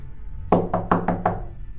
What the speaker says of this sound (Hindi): किसी ने दरवाजे पर दस्तक दी।